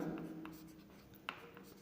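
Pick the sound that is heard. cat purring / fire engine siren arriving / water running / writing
writing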